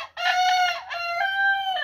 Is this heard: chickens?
yes